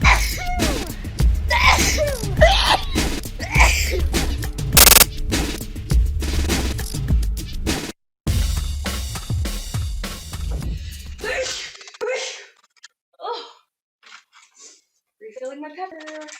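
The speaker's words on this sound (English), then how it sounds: "These are sneezes 40 through 45 in the Sneeze Chronicles." Rapid series of loud, explosive sneezes from a young woman, several bursts packed close together, followed by quieter breathy sounds and faint voice near the end.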